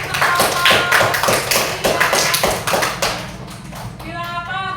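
A group claps in fast, uneven bursts, fairly close, before the clapping fades and a voice begins speaking at the end.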